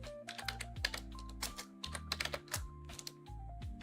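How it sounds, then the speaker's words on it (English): Clicky computer keyboard typing, a quick irregular run of close key presses with a steady low hum in the background. "this is such an annoying name to type out"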